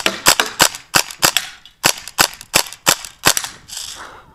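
An Umarex Steel Force air gun fires a rapid burst of about twelve sharp, loud cracks in quick succession, close to the listener, with no talking.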